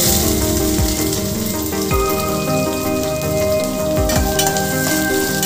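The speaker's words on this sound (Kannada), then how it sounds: "ಸಣ್ಣದಾಗಿ ಹಚ್ಚಿಟ್ಟಿರೋದು 1 ಈರುಳ್ಳಿ ಹಾಕ್ತಾಯಿದ್ದೀನಿ" Finely chopped onion frying in oil with mustard seeds and chana dal over a medium flame, a loud, steady close-up sizzle with dense crackling and a few soft stirring scrapes, and no voices.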